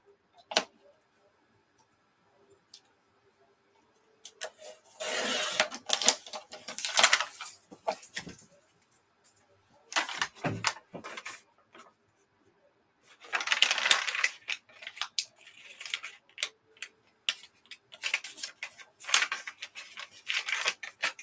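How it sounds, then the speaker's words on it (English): Scissors or cutters snip and crunch through the rings of a boho junk journal, in several clustered bursts of sharp metallic clicks and crunching separated by quiet gaps, close and moderately loud with no talking. "I'm going to cut the rings off."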